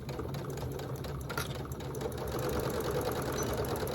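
A sewing machine back stitches on a zippered pouch, its rapid, even mechanical chatter running close and continuous.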